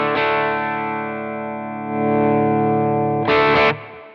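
An electric guitar plays through a J.Rocket overdrive pedal set as a clean-ish boost. A held chord rings with steady sustain and slowly decays, then a short bright strum cuts in near the end.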